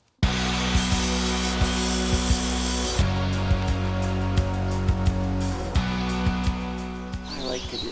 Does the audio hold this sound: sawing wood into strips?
yes